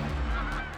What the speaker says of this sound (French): Il s'agit d'oies sauvages du Canada.